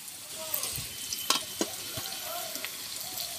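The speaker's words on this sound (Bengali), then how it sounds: "এবার আমি এমনি আলুগুলো ভেজে নেব" Potatoes frying in a pan give a low, steady sizzle, broken by occasional soft crackles and pops.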